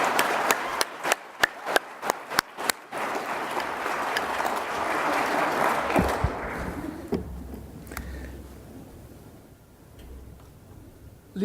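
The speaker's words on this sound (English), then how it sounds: "Give them another round of applause for that." A few sharp, evenly spaced claps ring out first, then a broad swell of applause from a workshop audience builds and gradually fades away into quiet room noise.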